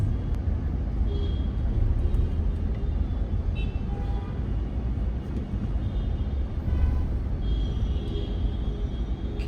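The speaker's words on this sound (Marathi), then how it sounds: "किती मोठं ट्रॅफिक आहे" Heavy evening rush-hour traffic on the Thane to Mankoli highway rumbles as a constant low roar, with occasional faint horn toots rising above the dense wash of engines.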